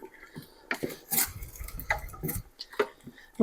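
A spoon stirs garlic paste into a pot of broccoli cheddar soup, giving a string of close, irregular scrapes, clinks and soft wet sloshes with short pauses between strokes.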